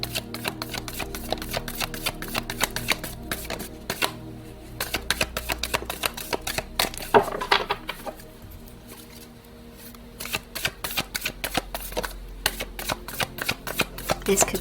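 Tarot cards are shuffled and drawn by hand, with rapid riffling and soft flicking bursts repeating steadily, close and moderately loud, pausing briefly midway before resuming.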